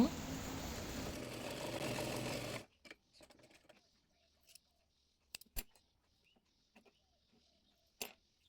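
A sewing machine stitches the ribbon of a girl's frock in a steady whir for about two and a half seconds, then stops, leaving faint scattered clicks and handling noises.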